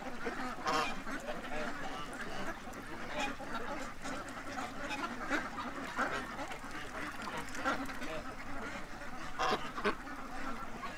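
Ducks and geese quacking and honking together outdoors, many overlapping calls in a busy continuous chorus, some birds close and others farther off.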